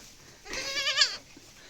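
A goat gives a single short, wavering bleat close by against a quiet background.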